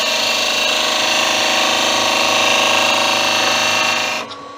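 A skew chisel shaping a small wooden Christmas tree on a spinning lathe, a loud steady whirring and cutting drone that runs unbroken for several seconds, then cuts off as the tool lifts away.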